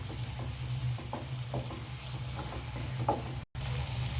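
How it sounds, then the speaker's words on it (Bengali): Ginger garlic paste frying with onions in a pan, a steady close sizzle with soft stirring scrapes at intervals and a brief dropout near the end, with no talk. "দিয়ে আবারও আমি পেঁয়াজের সাথে আদা রসুনটা ভালো করে আমি ভেজে নেব"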